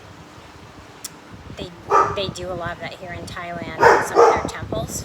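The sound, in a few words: dog barking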